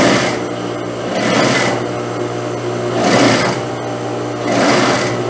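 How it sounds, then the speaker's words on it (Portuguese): A sewing machine topstitches close to the edge over bias binding on a blouse with a gathered sleeve, humming loud and near in steady surges that swell and ease several times, with no voices. "Vou passar também a costura de pesponto rente, ó, virando aqui pro outro lado."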